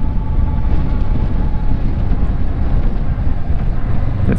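A motorcycle slowing on engine braking on a road near Olho d'Água do Casado, Alagoas, gives a loud, steady low rumble mixed with heavy wind buffeting the microphone, continuous throughout with no talking.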